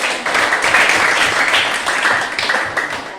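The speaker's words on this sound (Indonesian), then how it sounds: "Berikan aplaus dulu" Audience applause after group presentations at a class or school event: a dense, steady wash of many hands clapping together, fairly loud and close, holding for about three seconds with no speech on top.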